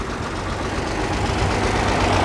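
A tractor engine runs steadily at a steam and gas engine show, a low, rumbling idle that holds even and fairly loud for a couple of seconds with no voices.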